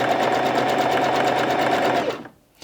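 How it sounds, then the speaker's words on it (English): A Bernette 05 Crafter sewing machine runs steadily at a 6mm stitch width, a close, loud, even whir with a rapid needle rhythm that winds down and stops near the end. "So let's go up to the maximum, which is 6mm, and make a start sewing."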